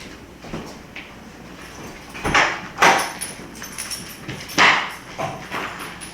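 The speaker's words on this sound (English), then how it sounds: "Let me make sure the door closes." A door closes indoors at home with a nervous dog nearby, heard as several sharp knocks and thumps of moderate loudness among quieter shuffling.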